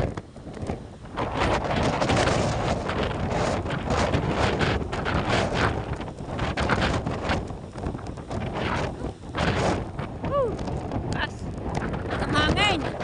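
Strong wind from a super typhoon at the seashore roars and buffets the microphone continuously, with gusts rising and falling, while a person talks throughout.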